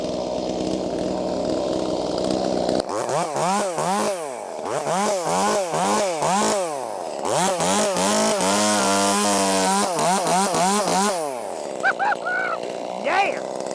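An Echo 2511T chainsaw cuts wood in loud, close bursts, with its engine repeatedly revving up and down for several seconds before dropping back to a lower, rougher running sound.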